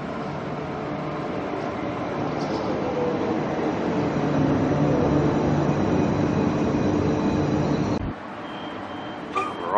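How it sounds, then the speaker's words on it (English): A Shorncliffe-line train arriving at a Brisbane station rumbles steadily close by, a broad heavy roar that holds for several seconds before dropping off suddenly, then a brief higher whine near the end. "The Shorncliffe train is now arriving"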